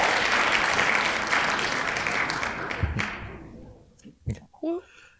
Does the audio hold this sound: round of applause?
yes